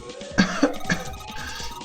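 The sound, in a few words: Clover coughing in video game 999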